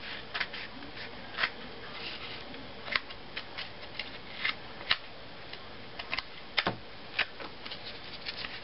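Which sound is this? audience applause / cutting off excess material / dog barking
cutting off excess material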